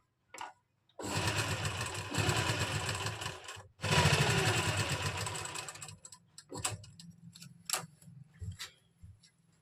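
Electric sewing machine stitching a lined kameez with embroidery, running in two steady bursts of a few seconds each, separated by a brief stop, then followed by scattered short clicks and intermittent stitches.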